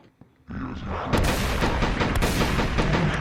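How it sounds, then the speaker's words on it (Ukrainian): Machine gun firing in a Ukrainian video game, a dense, loud burst of rapid shots that starts sharply after a brief quiet moment and continues steadily to the end. "Так кулемет реально стріляє як кулемет, бачите?"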